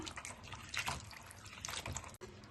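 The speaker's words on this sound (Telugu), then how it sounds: "ఈ నల్లేరు కాడని శుభ్రంగా 3 సార్లు సాల్ట్ వాటర్లో కడగాలి" Stems of the veldt grape plant are washed in salt water, with soft close sloshing, dripping and splashing of water as they are rinsed by hand, quiet and continuous with brief louder swishes.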